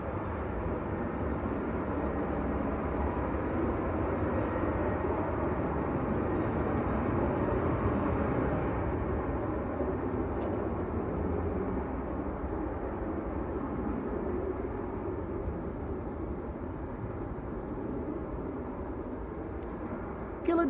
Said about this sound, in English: Ryanair to Dublin is next to roll.